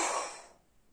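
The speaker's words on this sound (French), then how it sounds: "on va expirer fortement afin de le détruire." A strong, forceful exhalation during a children's sophrology breathing exercise, a close breathy rush of air that fades out within half a second.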